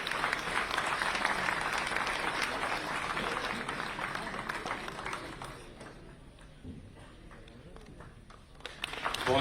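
Crowd applause at an award ceremony for a para games athlete, sustained clapping that swells then fades after several seconds, with voices and a few loud thumps near the end.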